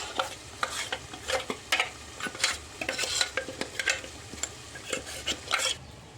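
Ground roasted masala paste being stirred into a potato and egg curry, with repeated scraping spoon strokes against the pot over a soft simmer, close and steady.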